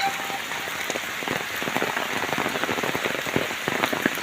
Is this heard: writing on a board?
no